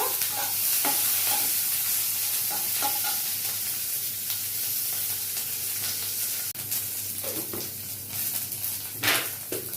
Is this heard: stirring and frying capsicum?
yes